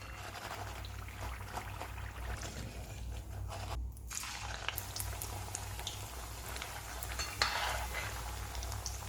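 Lemon rice vada, made from leftover rice, frying in hot oil, with a soft steady sizzle and a few light clinks and scrapes as pieces are stirred and lifted out, with no talking.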